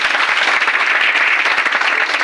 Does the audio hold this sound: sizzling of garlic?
no